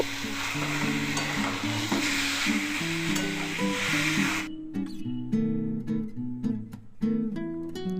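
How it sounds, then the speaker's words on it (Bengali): Lightly fried meat pieces tipped into hot oil and stirred, bright sizzling under a steady run of background music that carries on after the frying cuts away. "এরপরে আমি এই হালকা ভাজা করে যে মাংসগুলো ছিল সেগুলো দিয়ে দিলাম দিয়ে নেড়ে ছেড়ে"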